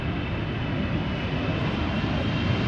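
A Suriname Airways Airbus A340 jet at Amsterdam Schiphol, a steady, moderately loud engine roar with broad rumbling noise holding evenly from start to finish, no voices over it.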